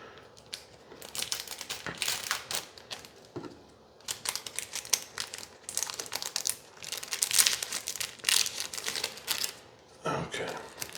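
Scissors cutting open a foil Magic: The Gathering Secret Lair card pack, with crisp crinkling snips and rustling in irregular close bursts across the whole stretch, louder near the end.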